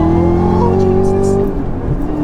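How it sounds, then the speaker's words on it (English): Loud, close engine of a 2021 Chevrolet Camaro ZL1 1LE pulling hard under acceleration with a strong droning tone that shifts as traction breaks, then eases off, with voices talking over it. "You definitely broke traction there."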